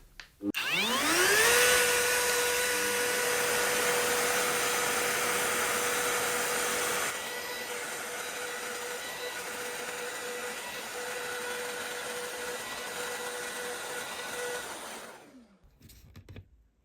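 A router fitted with a 30mm guide bush spins up with a rising whine and runs loud and steady on a shelf pin jig, dust collection roaring alongside, for about fourteen seconds, then winds down to silence.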